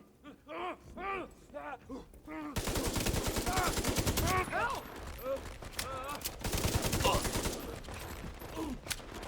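Light machine gun fire in a video game erupts in two long, loud, rapid bursts after a stretch of talking, and voices keep speaking between and over the shooting.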